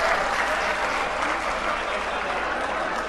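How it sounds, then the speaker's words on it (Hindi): A crowd at a political gathering applauding to welcome Arvind Kejriwal, dense sustained clapping from many hands that holds at a steady level for about three seconds. "जोरदार तालियों से स्वागत किया अरविंद जी का"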